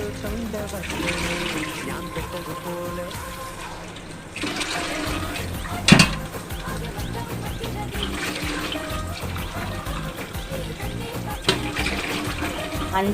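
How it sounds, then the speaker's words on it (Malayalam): Glassfuls of water poured into a pot of biryani in a home kitchen, a steady close gushing splash lasting throughout with short louder bursts as each glass is tipped in. "ഇതിൽ അഞ്ച് ഗ്ലാസ് പാർന്നെടുത്തിട്ടുണ്ട് ഇനി അഞ്ച് ഗ്ലാസ് പാരാൻ പോവുകയാണ്"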